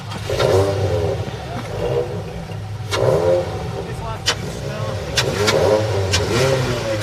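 Fiesta Junior Championship racing car at Cadwell Park revving before qualifying, a mid-pitched engine blipping in repeated bursts with sharp peaks, heard under an ongoing commentary voice.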